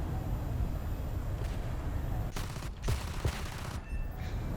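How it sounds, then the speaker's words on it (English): Aircraft cannons in a jet combat video game rattle off in dense, rapid bursts over a constant engine roar, with a few sharper volleys standing out partway through. "These cannons are amazing."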